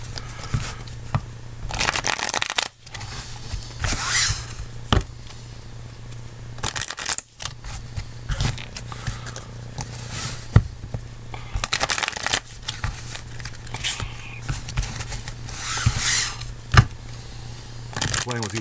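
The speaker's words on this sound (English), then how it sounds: "We'll shuffle this up real good." Sleeved Magic: The Gathering deck being shuffled by hand, repeated bursts of riffling and card slaps with brief gaps between them, close and clear, while someone talks intermittently over the handling.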